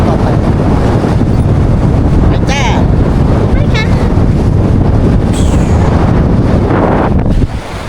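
Strong wind buffets a microphone outdoors, making a loud, continuous rumbling roar that eases off only in the final half-second.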